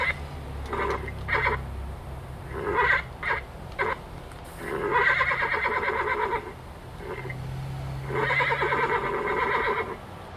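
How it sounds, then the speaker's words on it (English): Recorded horse neighs and whinnies, several separate calls with fast vibrato spread over about ten seconds, loud and close, with a few softer snorts between them and no talking. "It was actually because of the sound of a horse."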